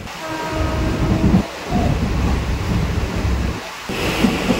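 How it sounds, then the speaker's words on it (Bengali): A Ranaghat to Naihati local train runs at about 100 km/h, with a loud, heavy rumble and steady wheel roar heard from inside, broken by brief dips in the noise. "রানাঘাট থেকে নৈহাটি যাওয়ার ট্রেনের স্পিড 100 ভাই"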